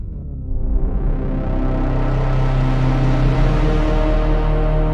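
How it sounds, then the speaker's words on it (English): A sustained Dave Smith Mopho analog synthesizer drone swells in after a brief quiet start, thick with washy reverb and echoing delay from a Recluse-Audio Reflections pedal, holding steady and loud throughout. "we're hearing still a lot of reverb because it's being sent over from the delay"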